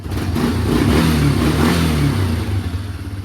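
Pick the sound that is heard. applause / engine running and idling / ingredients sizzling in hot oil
engine running and idling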